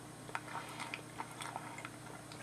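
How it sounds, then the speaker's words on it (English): Someone eats a cracker with soft, crisp crunching bites in a quiet room, irregular small crackles close by and faint, with no talking. "I didn't want you to hear me crunch."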